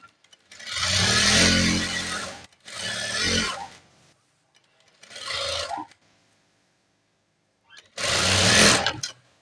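A sewing machine stitches the pant of a nurse uniform in four loud bursts of whirring stitching, separated by short pauses.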